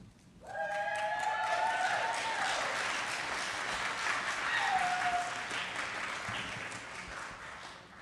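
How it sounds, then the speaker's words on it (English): Applause fills a city council meeting chamber, a dense, sustained round of clapping that swells in quickly and holds for several seconds before tapering, with a few voices calling out over it. "as you can tell by the applause"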